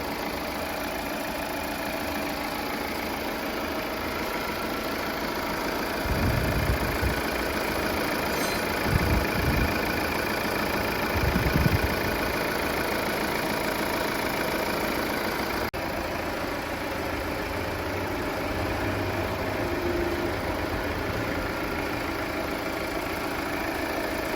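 A Volvo S90 idles steadily for the whole stretch, a low continuous engine hum with a few slightly louder mid-clip bumps and no talk over it.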